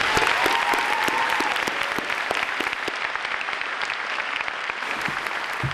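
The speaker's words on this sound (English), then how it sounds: "Can we just get one more round of applause for Ms. Peck?" A crowd at the Abington High School Class of 2019 graduation breaks into loud, dense applause, crisp individual claps standing out within the roar, with a brief cheer-like tone near the start.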